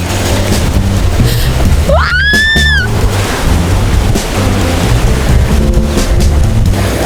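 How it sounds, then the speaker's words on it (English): Strong wind buffets the microphone in a constant roar, with a brief high whistling tone rising and falling partway through. "Oh my goodness, it's so windy today."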